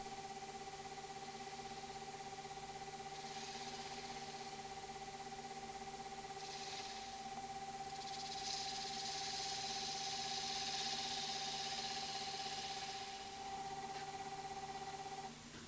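A wood lathe with an eccentric chuck runs steadily while a small dish is turned, giving a constant tonal hum with faint scraping of the tool against the wood, quiet and unbroken.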